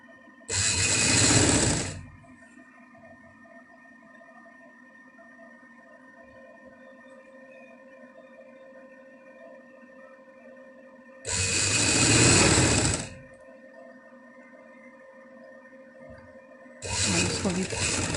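Sewing machine stitching a double-layer frill frock, running in three short bursts of a second or two each, fairly loud and close, with a quiet steady hum between them.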